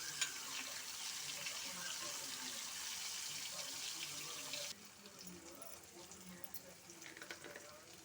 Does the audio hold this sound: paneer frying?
yes